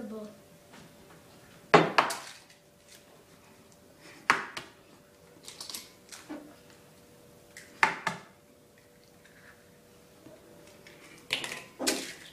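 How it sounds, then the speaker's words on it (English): Four eggs cracked one after another against a mixing bowl for chocolate brownies, sharp close taps spaced a couple of seconds apart, with soft kitchen handling sounds between them. "4 eggs. Be careful that the eggshell don't fall into the bowl"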